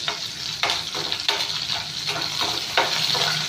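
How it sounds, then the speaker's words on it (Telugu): Green chillies fry and spatter in hot oil, giving a steady close hiss with repeated sharp crackling bursts as they are stirred, with no voices over it. "పచ్చిమిరపకాయలు ఎలా అంటే చిట్లుతూ ఉంటారనమాట"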